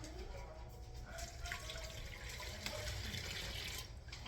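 Lukewarm water pours into a container for a sourdough mix, a soft, continuous trickling and splashing that is fairly faint, with a few brief brighter splashes along the way.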